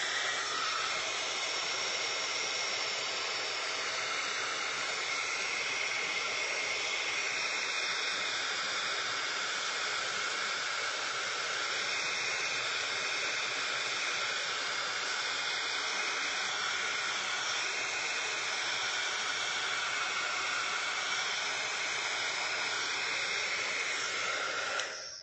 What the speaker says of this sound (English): when you're using your heat tool to speed dry acrylic paint, be real careful